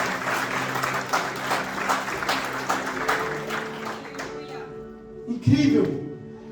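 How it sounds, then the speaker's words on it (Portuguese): A church congregation applauds during an Easter sermon, steady crowd clapping that fades out, followed by a brief louder burst near the end. "Pode aplaudir."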